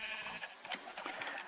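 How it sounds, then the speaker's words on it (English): Minecraft sheep bleat in a short, quiet burst of wavering cries inside a game pen, with no talking over them. "whack the sheep"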